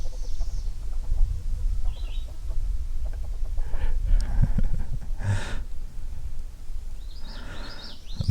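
Barred Rock chickens in a coop at a farm museum, giving low clucks and soft murmuring calls close by over a steady background rustle, with a brief louder squawk near the end.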